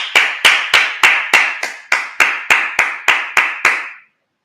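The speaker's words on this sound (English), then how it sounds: "Clap it up." A congregation claps in unison at a Sabbath service: about a dozen sharp, evenly spaced claps close together over four seconds, with no talking, ending abruptly.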